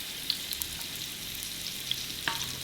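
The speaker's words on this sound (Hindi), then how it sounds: "उसके लिए मैं हाफ कप ऑयल लूँगी और इसमें ये मैंने 2 अदद मीडियम साइज़ के प्याज लेके इनको रफली चॉप किया हुआ वो डाल" Two roughly chopped medium onions frying in half a cup of oil for mutton pulao, a steady soft sizzle with a few sharp pops and crackles, close and alone with no talk.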